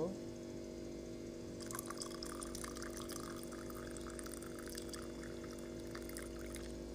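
Liquid is poured into a dish, a soft continuous trickling and splashing that starts partway through and runs to the end, faint and close over a steady low background hum.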